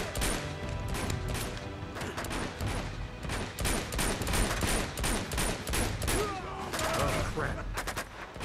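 Dense gunfire crackles from the video game Uncharted 2: Among Thieves, rapid loud shots and bursts overlapping almost without pause, with a voice heard faintly in the mix.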